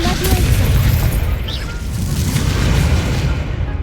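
A Confringo explosive spell blast in Hogwarts Legacy, a loud booming burst with a rumbling low tail and a voice sounding under the noise.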